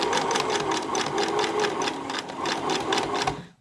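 Sewing machine running steadily and slowly along a curtain side seam, a fast even rhythmic chatter of stitches that continues close and loud, then cuts off at the end.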